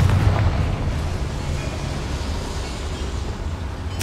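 Bombarda and Confringo spells cast in the Hogwarts Legacy video game, a loud opening blast settling into a dense, continuous rumbling roar that fills the short span.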